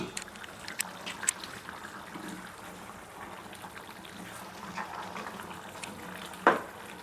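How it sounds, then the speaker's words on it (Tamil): Soft bubbling of a Tamil bottle gourd, drumstick and dried fish curry simmering in a pot on the stove, a steady low gurgle with a brief louder pop near the end. "நல்லா குழம்பு கொதிக்குது"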